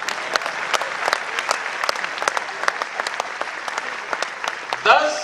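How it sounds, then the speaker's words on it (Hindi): Audience applause at a centennial celebration of Pune's Gujarati community, a steady wash of dense clapping from a large crowd that carries on throughout, with a brief louder swell near the end. "ताली इस पर बजनी चाहिए।"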